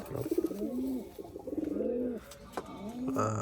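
A female Kaldom pigeon coos close by, giving a few soft, rolling coo phrases in a row with short pauses between them.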